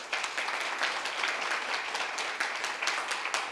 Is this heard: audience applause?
yes